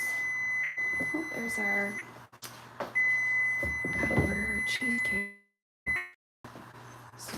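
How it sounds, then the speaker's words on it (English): A kitchen timer beeps repeatedly with sharp, high, steady electronic tones that stop and start, while cheesecakes and chili are being made. A person talks over the beeping. "Stop that timer."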